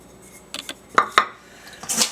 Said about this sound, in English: We will mix this up thoroughly to try and get all the frozen fruit covered as much as possible.